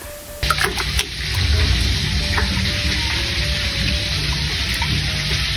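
Glutinous rice is rinsed in water before it goes into arroz caldo: a steady wet sloshing and swirling runs without a break after a brief knock at the start.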